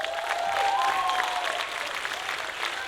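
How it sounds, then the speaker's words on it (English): An audience applauds at an awards ceremony: steady, dense clapping that fills the whole stretch at an even level, with a faint whistle-like tone drifting above it. "so let's give her a round of applause."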